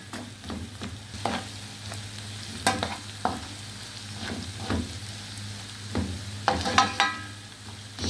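Onion, garlic and spices sautéing in a pan for fava beans, a steady close sizzle with repeated clacks and scrapes of stirring throughout, no voices.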